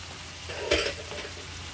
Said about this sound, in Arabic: هقلبهم بس كده في النص يختلطوا بالزبده